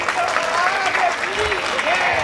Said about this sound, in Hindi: बस इतनी तालियां।